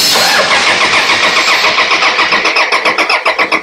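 A BMW X3 with an N47 diesel engine cranks and fires. The loud starter whine gives way to a rhythmic chugging pulse as the engine catches and settles.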